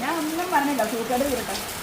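Rain falls as a steady, dense hiss throughout, with a voice talking over it.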